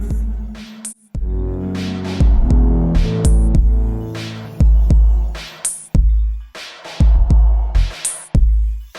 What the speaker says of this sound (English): Going real slow, I am going to sew a close seam as close as possible to that folded edge to hem the bottom of my shorts